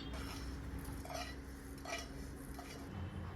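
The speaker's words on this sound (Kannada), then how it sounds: "2 ರಿಂದ 3 ಸ್ಪೂನ್ ತುಪ್ಪ ಹಾಕ್ಕೊಂಡು ಖರ್ಜೂರ ಏನಿದೆ ಅಲ್ವಾ ಅದನ್ನು ಕೂಡ ರೋಸ್ಟ್ ಮಾಡ್ಕೋತಾ ಇದ್ದೀನಿ" Dates roasting in two to three spoons of ghee in a pan, with steady soft frying hiss and a few light scrapes and clinks of a spoon stirring against the pan, close and continuous.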